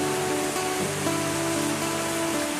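Steady rain falls in a hiss of dense wash, heard without break at moderate level, with a faint tonal hum beneath it.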